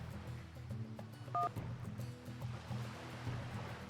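A short pair of touch-tone dialing beeps sounds once near the start as a phone number is dialed in the Nancy Drew game Danger on Deception Island, heard over a quiet, low ambient background of lapping water and soft music.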